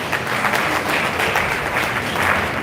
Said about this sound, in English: I thought we would clap better.